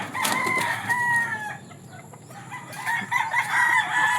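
Roosters crow repeatedly on a farm in Sibulan, Negros Oriental, with several drawn-out calls overlapping close by, mixed with clucking fowl, a short lull, then more crowing.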